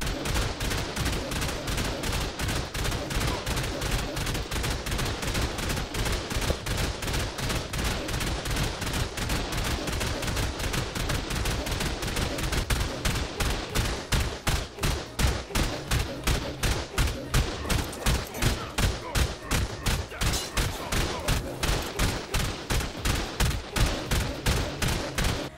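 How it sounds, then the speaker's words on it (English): Rapid automated turret fire in the survival game Ark, a dense, loud, continuous barrage of shots that grows into sharply pulsed bursts, with no talking. "you will get shot by these turrets."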